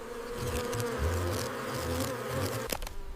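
A swarm of bees buzzes loudly and close around a honey hive in the African wild. The droning hum is dense and wavering, with a brief knock near the end.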